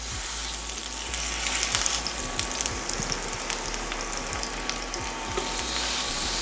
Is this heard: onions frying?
yes